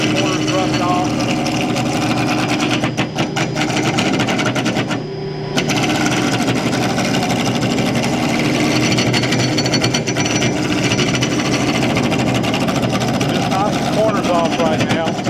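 A wood lathe spins a blank while a roughing gouge knocks off the corners of a barber's pole workpiece, a loud continuous chattering grind with a short break, under a voice.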